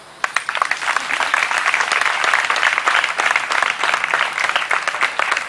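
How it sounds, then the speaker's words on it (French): Applause at a wedding ceremony: a loud, sustained crowd clapping that rolls on steadily throughout, with a dense patter of many hands and a hint of voices underneath. "On acclame encore le Seigneur pour maman Aïman Odette."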